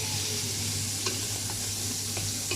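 Smoked pork (boucané) sizzling steadily in a pan for a Réunion rougail, with a few soft scrapes of stirring breaking through the continuous frying hiss.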